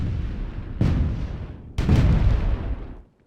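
Two heavy cannon blasts from Myth 2: Soulblighter, each a sudden loud boom that rolls off into a rumbling tail, the second one fuller and longer.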